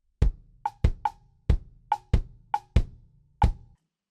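Salsa clave strikes landing just ahead of kick drum thumps in a groove-based metal-salsa polymeter pattern: eight sharp, woody clicks with a bright ring, each closely paired with a low thud, loud and unaccompanied by voices.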